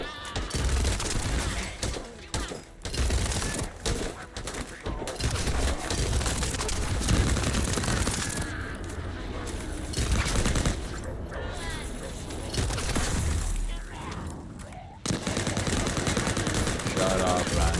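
Sustained automatic gunfire hammering at a Cabal shield in a video game, in long dense bursts with brief pauses and some voices underneath.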